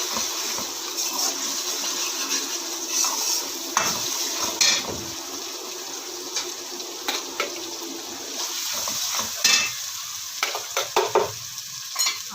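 Masala frying in a kadhai while being stirred, a close sizzle broken by repeated scraping strokes of a spoon, with a few sharper clatters near the end.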